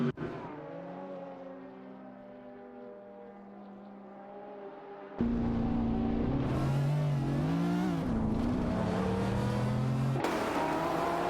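AI-driven race car in a motor-racing sim pulls away, its engine note holding low then jumping into a loud, high-pitched revving whine that climbs and shifts through gears, close and alone.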